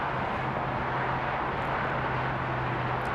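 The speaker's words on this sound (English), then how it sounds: "Here is American Flight 7 going to Brisbane. 7879 Dreamliner." American Airlines Boeing 787-9 Dreamliner at Dallas Fort Worth airport, heard as a continuous broadband jet roar with a low steady hum, moderately loud and without speech.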